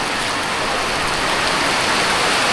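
Heavy rain pours down steadily, a dense loud hiss filling the whole stretch with no breaks.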